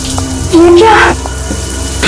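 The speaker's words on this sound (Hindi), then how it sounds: "पानी का नल खुला छोड़ के मम्मी तो ऐसा कभी नहीं करती" A water tap left running in a home keeps up a steady broadband hiss throughout, while a tonal voice-like sound rises over it midway.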